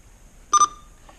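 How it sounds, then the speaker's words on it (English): One short electronic beep, a clean two-pulse tone, sounds from a Uniden Bearcat 980SSB CB base station against a quiet background, followed by a faint trailing blip. "you just simply hold that button in and the beep turns off"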